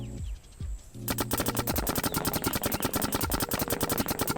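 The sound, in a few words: paintball marker firing in Infinite Paintball Tournament video game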